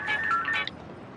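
A telephone rings briefly: a short electronic trill of a few warbling tones, moderately close, fading out after about half a second.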